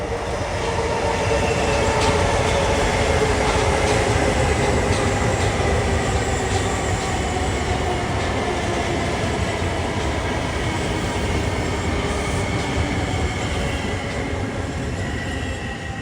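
A Long Island Rail Road train, 1656 from Grand Central to Huntington, rolls loudly and steadily through Garden City station, with continuous rumbling wheels and a sustained bright metallic whine.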